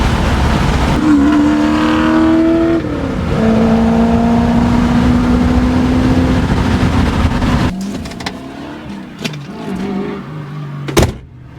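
A modified car engine with an aftermarket exhaust, preferred over Flowmasters, revs and pulls up through the gears, its rising drone stepping down at each shift, then easing off into a few sharp knocks and a door-like thud at the end.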